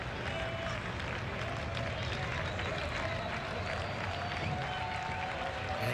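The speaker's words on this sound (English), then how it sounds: "Yankee fans starting to clap." Baseball crowd noise from Yankee fans at a Yankees–Pirates game, a steady dense wash of clapping and cheering blended with stadium roar, continuous and fairly loud throughout.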